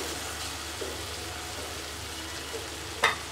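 Lote fish jhuri frying in a pan, a soft, continuous sizzle and crackle of oil heard close but quietly, with a brief clatter of a utensil near the end and no talking.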